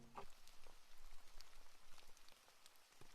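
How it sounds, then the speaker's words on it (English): Steady rain patters on a hard surface, a soft continuous hiss broken by scattered drop ticks, fairly faint and alone without any voices. "Only the rain answered him."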